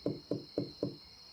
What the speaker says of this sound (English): The knocking.